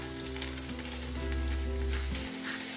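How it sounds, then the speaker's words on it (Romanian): Shredded cabbage poured into hot oil in a large pot, a loud close sizzle and crackle that swells and then drops away near the end, with no voices. "într-o oală încăpătoare am pus ulei și torn varza peste uleiul încins"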